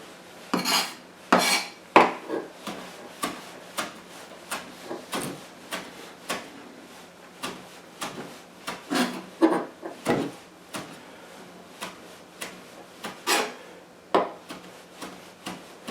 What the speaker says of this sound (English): I'll strip that off of strip the fronds off of the stem